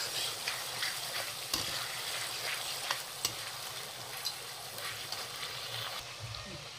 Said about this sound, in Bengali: চিনি চিনি মশলাটা ভালো করে কষায় নিতে লাগবো